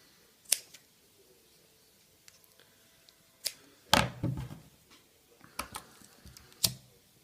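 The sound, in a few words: cutting paracord off for a catapult pull loop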